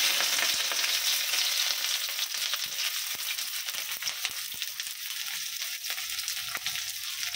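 Onions frying in hot oil in a home kitchen, a bright crackling sizzle that starts loud and settles to a steadier, slightly softer hiss, with no talking.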